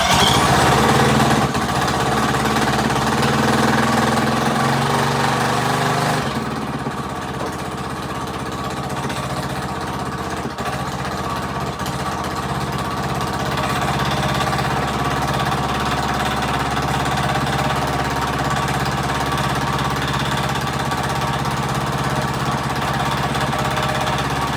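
A rebuilt Predator 212 small engine pulls, starts and then runs steadily, a loud continuous putter that settles into an even idle-like drone after the first few seconds, with no voices over it.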